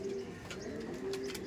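Pigeons in a crowded loft give low, soft cooing calls under a constant background hum and rustle, somewhat faint and close.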